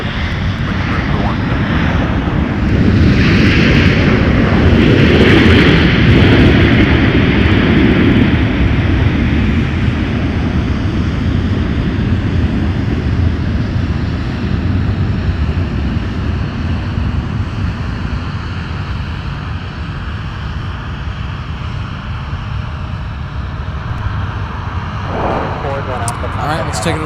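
An airliner arriving from Las Vegas touches down at Minneapolis–St. Paul airport with a loud, broad engine rumble and wind-like roar. The noise is strongest early and eases gradually as the plane rolls out.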